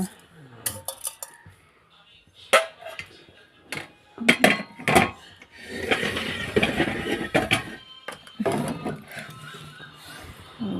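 Rice being washed in a pot at home, heard as irregular clattering knocks and clinks of the vessel with bursts of swishing, close and fairly loud, with brief speech in places.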